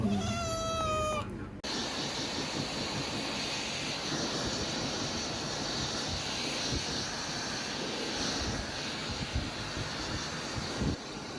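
Kitten meows briefly and clearly at the start inside a pet grooming salon, then gives way to a steady loud blowing roar like a hair dryer for the rest.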